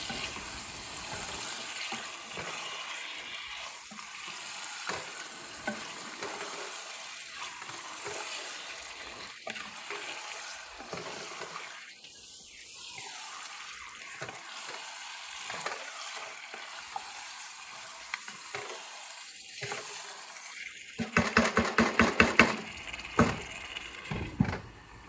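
Beef stew with green peppers and cilantro sizzles in a pot while being stirred; a continuous soft frying hiss runs throughout, broken by scraping stir strokes and a burst of sharper clatter near the end.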